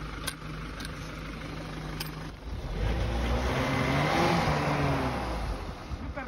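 A car stuck in snow near Chitkul at about -10°C revs its engine, idling at first, then rising into a louder sustained strain as it tries to pull free, with no talking.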